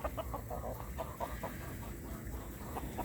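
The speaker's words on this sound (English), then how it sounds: "The lone rooster." Rooster clucking with short, repeated calls over steady low outdoor rumble, no clear full crow; moderate level, no talking.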